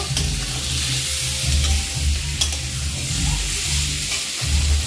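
Potatoes fry and are stirred in a pan while cooking pabda-tangra fish, a steady close sizzle broken by repeated scraping strokes of the spatula throughout, with no voices.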